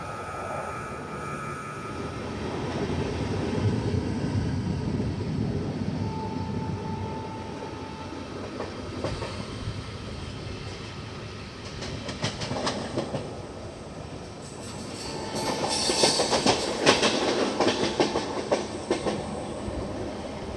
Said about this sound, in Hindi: दूसरे प्लेटफॉर्म से कोई तो ट्रेन गुजर रही है